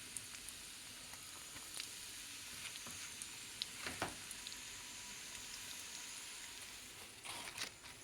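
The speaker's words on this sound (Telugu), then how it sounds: "ఇప్పుడు ఆ మిగిలింది కూడా వేయించేస్తాం." Finger fish pieces fry in hot oil, giving a steady, dense sizzle that runs the whole time with small crackling pops and a brief burst of spattering near the end.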